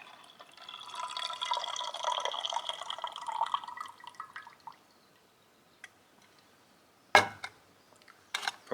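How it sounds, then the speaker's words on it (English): Water pours into a cup beside a German Esbit stove, a steady trickling stream for several seconds that tapers off, followed by a couple of sharp clinks. "And just give it the old pour."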